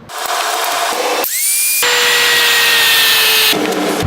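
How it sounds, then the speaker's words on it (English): A power tool cuts a slot through a metal speedometer ring for a Honda Goldwing bobber housing, with a loud high grinding whine, a brief spin-up, a steady cut, and a pause before it resumes. "I'm actually going to slot this guy, split the ring in half a little bit"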